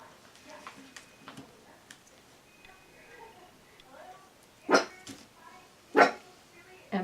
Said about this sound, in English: the dog is looking out the window and decided to bark